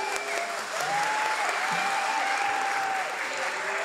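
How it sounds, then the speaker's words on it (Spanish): Audience applause at a comedy show rings out as dense, continuous clapping from a crowd, loud and steady, with a faint whistle-like tone drifting through. "Es un aplauso ahí, hombre."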